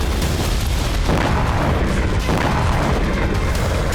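Heavy, continuous rumbling blasts from missile, rocket-launcher and drone strikes on Ukrainian positions near Zaporizhzhia, loud and dense with no clear gaps, a sustained roar of explosions and echoing booms.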